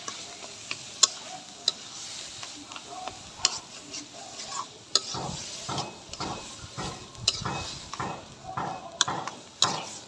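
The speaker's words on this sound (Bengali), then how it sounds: "আবার তিন চার মিনিটের মতো আমি নেড়ে ফেলে এটা নামিয়ে ফেলবো" Taro leaves (kochu shak) cooked with ground shrimp and coriander are stirred in a pan, with quiet sizzling and repeated soft scraping and tapping strokes of a spoon at a steady rhythm.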